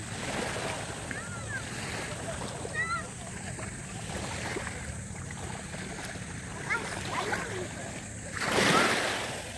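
Ocean surf rolls and washes steadily, with a bigger surge near the end, while voices chatter and call out over the water.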